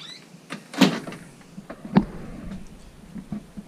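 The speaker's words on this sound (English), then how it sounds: "And then this sliding door," A sliding door on a 1985 Gibson 14 x 44 fiberglass houseboat rolls along its track, giving a sharp close clack near the start and a second knock about a second later, then fainter rattles.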